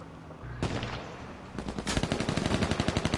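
Gunfire in H1Z1, opening with a lone sharp shot followed shortly by a rapid burst of automatic fire, a fast, even rattle of rounds that grows louder and closer toward the end.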